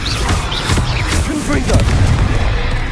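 Confringo blasting spell explosions from the video game Hogwarts Legacy boom loudly and densely over rumbling combat noise, with a voice calling out over the blasts.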